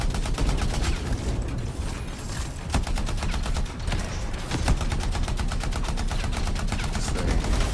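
Sustained automatic weapon fire in the video game Anthem, shot from inside a bubble shield: a steady, rapid stream of loud, evenly spaced shots with occasional heavier impacts over dense combat noise.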